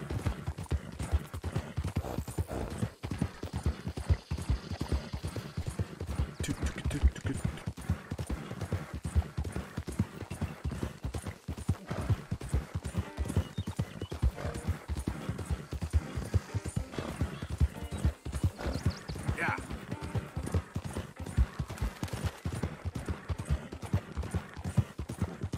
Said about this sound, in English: So much galloping, so much.